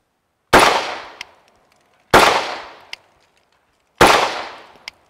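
Three sharp handgun shots are fired one-handed with a crush grip, each a loud, close crack with a decaying tail and a small metallic clink after it, spaced about one and a half seconds apart.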